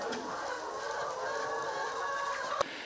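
Laying hens cluck at a school coop of about 60 square metres holding 216 egg-laying chickens. The clucking is faint and continuous over a hissy background, with a brief sharp knock near the end.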